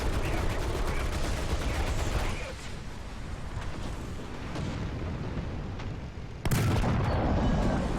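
Tank shells fire in the ARK survival video game, with a dense roaring barrage that drops to a lower rumble before another loud, sharp blast cuts in near the end.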